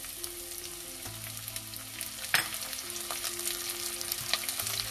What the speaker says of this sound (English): Fry this a little bit.